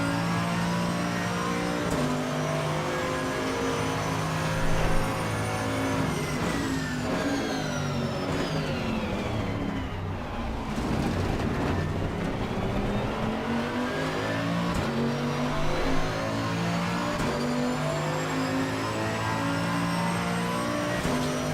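A GT2 race car in a racing video game, heard from the in-car view at the Red Bull Ring, revs loud and steady throughout, its engine pitch climbing, dipping briefly, then sweeping up again through gear changes.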